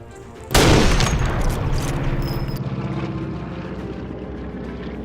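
A propeller airplane roaring past in the World War II shooter game Sniper Elite V2, sweeping in suddenly at close range and then fading as a steady drone.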